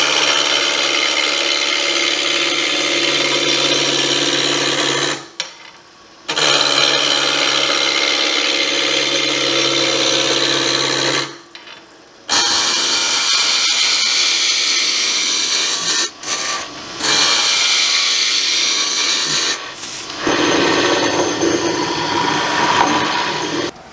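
A wood cylinder about 2 3/4 inches across spins on a lathe as a tool cuts it, giving a loud steady rushing hum broken by several brief pauses where the machine drops out.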